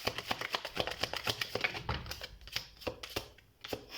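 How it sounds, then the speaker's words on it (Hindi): Tarot cards being shuffled by hand in a steady run of quick riffling taps and flicks, close and fairly loud, with no talking over it. "तो हम कार्ड शफल कर लेते"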